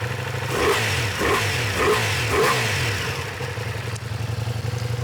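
A 2022 Ducati Multistrada V4 S with an Akrapovic exhaust, silencers fitted, revs up four times in quick succession, loud and close, then settles back to a rough idle.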